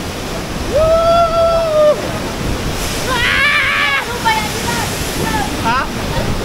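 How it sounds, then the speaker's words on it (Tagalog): Sanggawan Falls on Mt. Apo roars steadily in the background while people nearby shout and exclaim excitedly over the rushing water. "Oh, waterfall."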